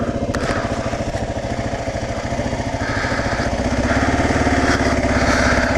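A carbureted motor idles a little high in cold winter air, its steady low pulsing throb running near and loud without a break, with a faint rise in intensity toward the end.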